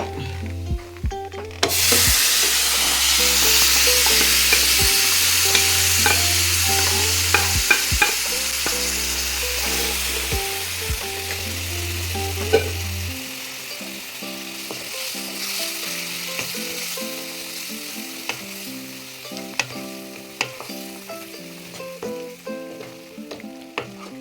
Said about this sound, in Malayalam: ഇനി നമുക്ക് ഈ വെന്ത് വെച്ചിരിക്കുന്ന ചക്കക്കുരു ഇതിനകത്തോട്ട് നമുക്ക് ഇടാം.